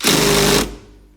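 A small Ryobi homeowner power drill spins out a steering wheel bolt on a Ford F-150, a loud close whirring burst lasting about half a second before cutting off and fading.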